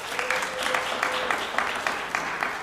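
At a city press conference, a crowd gives Congressman French Hill a short burst of even, steady clapping that continues at moderate volume without pause.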